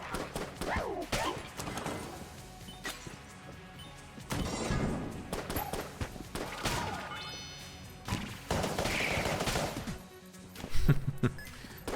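Rad gun shots in Enter the Gungeon, a busy stream of sharp cracks and impact hits at irregular rhythm, with game effects and clatter throughout.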